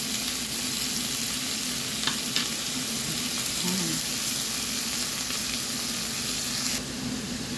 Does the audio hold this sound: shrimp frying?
yes